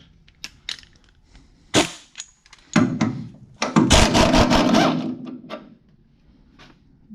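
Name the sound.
removing 14 mm bolts on Mustang rear suspension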